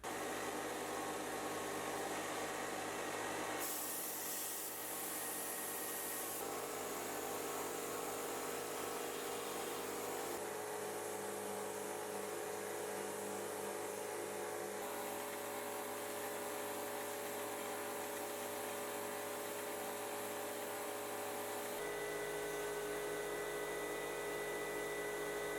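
A folding knife blade is ground to a chisel grind, giving a steady, loud mechanical whir and hiss that runs the full length, shifting in pitch and texture as the blade is moved against the grinder.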